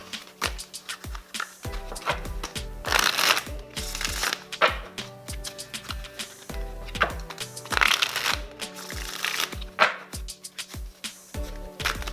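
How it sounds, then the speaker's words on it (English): Tarot cards shuffled by hand in repeated riffling bursts, with cards slapping and dropping onto a surface, close and fairly loud with no talking. "Wow, just dropping cards everywhere."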